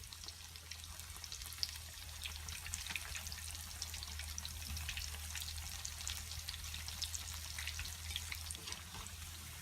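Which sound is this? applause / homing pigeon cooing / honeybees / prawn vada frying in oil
prawn vada frying in oil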